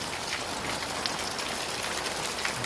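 Heavy rain pours steadily over the Mangla Dam area in Pakistan during a monsoon downpour, a dense continuous hiss of water falling on surfaces, with no voices.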